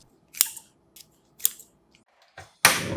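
Scissors snip through thin-sliced pork belly, cutting each rolled piece in half: a few sharp, separate clicks spaced apart and close by, ending in a louder, brighter rustle of handling.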